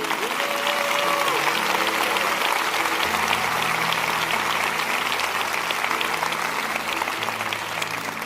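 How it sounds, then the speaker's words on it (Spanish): A church congregation applauds warmly and continuously, a dense wash of clapping with crowd murmur and faint sustained music underneath. "Denles un buen aplauso a ellos."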